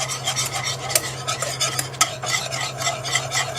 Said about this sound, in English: And then you just whisk it together